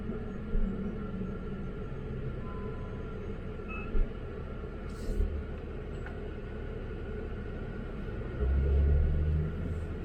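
A 2022 Kia Stinger GT2 cruising on a freeway gives a steady low road rumble with tire and wind noise. A few brief thumps break it, and it swells louder near the end.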